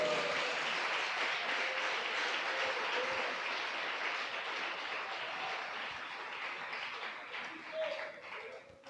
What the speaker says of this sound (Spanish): Les ofrenda de palmas al Señor.